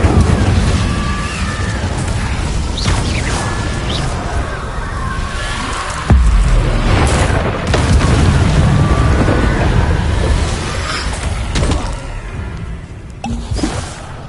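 Fiery spell blasts from Hogwarts Legacy, a series of loud whooshing bursts and booms layered over continuous combat rumble, with a few sharper impacts and brief speech-like fragments among the effects.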